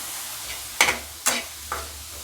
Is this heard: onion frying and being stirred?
yes